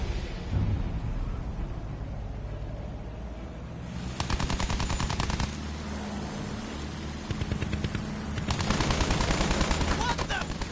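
Gunfire at German soldiers in the video game Battlefield 1, with sustained bursts of rapid automatic fire in two main stretches over a rumbling battlefield background.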